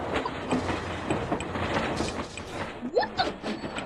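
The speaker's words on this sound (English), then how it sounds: "Train!" Train passing in a subway video game, a continuous rattling clickety-clack with brief squeals, moderately loud and steady.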